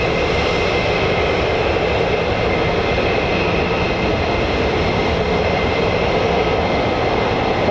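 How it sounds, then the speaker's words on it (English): F-35 fighter jets flying over an air base give a loud, steady, broadband jet roar that fills the whole stretch with no break, with no talking. "Here come the F-35s,"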